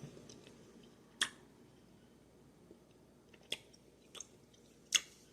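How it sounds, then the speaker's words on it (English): Gum is chewed quietly up close, with a few sharp smacking clicks spaced irregularly over a faint background. "going to eat a piece of gum just because I want to"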